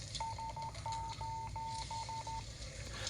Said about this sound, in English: You have a distress signal.